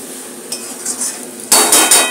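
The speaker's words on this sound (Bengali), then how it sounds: "এই দেখুন বন্ধুরা, মশলাটাকে দিয়ে খুব ভালো করে আমি কষছি।" Spices for a Bengali fish-oil chachchari fry in a pan. Soft scraping and light stirring lead into a sudden louder sizzle with metallic clinks of a spoon against the pan.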